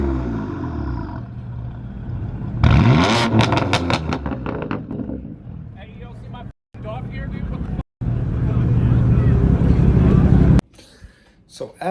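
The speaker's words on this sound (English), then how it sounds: "the M4 revving" A straight-piped BMW M4 F82 exhaust revs hard several times at a supercar meet, sharp rising and falling roars close by, with loud engine rumble and voices in the background.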